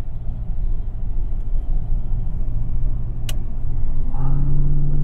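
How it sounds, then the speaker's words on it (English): A 1970 Buick 455 Estate Wagon that burns oil and has fouled plugs drives on the road, a steady low engine and road rumble from inside the car that grows slightly louder and deeper toward the end. "I'm driving a Buick that sucks down oil all the time"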